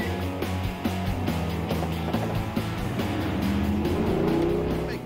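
A car in a spy car chase revs and gathers speed along a long winding road, its engine droning steadily with rising pitch and some gear shifts near the end.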